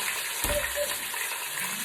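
Whole spices, black pepper and green chilli frying in a pot for chana pulao, a soft continuous sizzle with a brief stirring scrape near the start.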